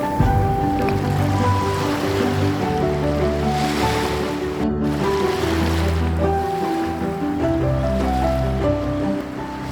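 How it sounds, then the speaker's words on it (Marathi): Steady wash of surf at Velneshwar beach on the Konkan coast, a continuous broad roar of waves with low rumbling swells, no voices over it. "वेळणेश्वर हा अतिशय स्वच्छ समुद्रकिनारा आहे आणि तो वेळणेश्वर नावाच्या गावाजवळ असलेला आहे"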